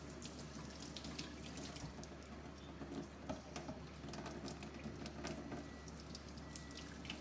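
Water streams steadily from a Kangen water ionizer machine, a faint continuous splashing and pattering over a low electrical hum, with no voices.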